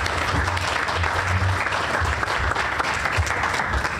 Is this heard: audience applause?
yes